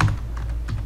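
Fingers type a backup name on a computer keyboard, a quick run of light, close key clicks over a low background hum, with no talking.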